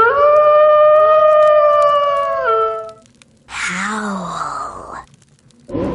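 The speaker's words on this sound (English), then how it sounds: "Howl." A spooky howl from the I Spy Spooky Mansion PC game: a long, steady, moaning tone lasting a few seconds, a brief silence, then a second, wavering wail that bends downward before fading.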